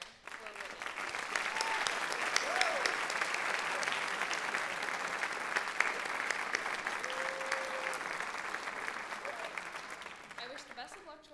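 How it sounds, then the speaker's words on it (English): Steady round of audience applause at a high school special recognition night, sustained and even for about eleven seconds before tapering off, with faint crowd voices underneath. "let's give one more round of applause for everybody here and elsewhere"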